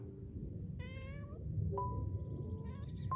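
A domestic cat on farm grounds in Sweden gives one drawn-out meow, clear and fairly close, over a low steady background rumble, with a fainter short mew near the end.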